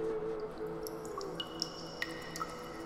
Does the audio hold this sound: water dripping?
yes